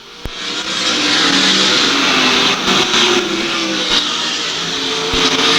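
World of Outlaws sprint cars race around Lakeside Speedway, a loud continuous engine roar that holds steady at a high pitch with slight rises as the cars run through the turns.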